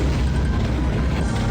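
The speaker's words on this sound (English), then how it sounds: "Chaos and explosions." A continuous rumbling explosion roars in the 1994 Ultima 8 game amid chaotic fighting, a loud, dense burst of noise that holds steady throughout the short moment.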